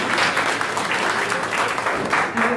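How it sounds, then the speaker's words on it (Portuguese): An audience at a poetry soirée applauds steadily, a dense sustained clapping that stays even and fills the room throughout. "Palmas, gente."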